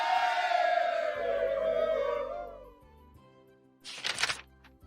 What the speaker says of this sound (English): The men cheered.